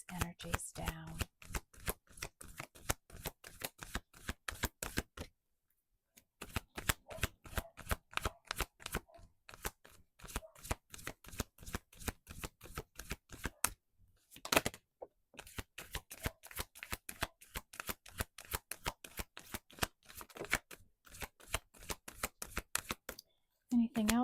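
Oracle cards riffle-shuffled in long continuous runs of rapid crisp flutters, with two brief pauses between bursts, close and clear with no talking.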